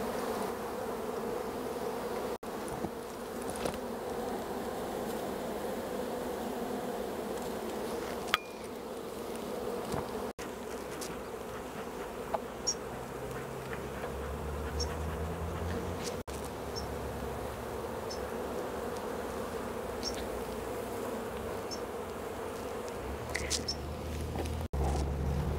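Steady, dense buzzing of many honeybees swarming close by around a hive, continuous throughout with a few faint clicks and knocks in the background.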